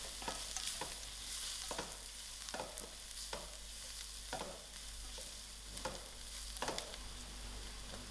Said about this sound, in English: And give this a mix.